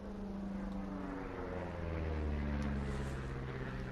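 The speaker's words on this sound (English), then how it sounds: "You see that plane?" A propeller airplane drones steadily overhead in the video game Firewatch, a low humming engine tone that swells slightly and holds loud throughout.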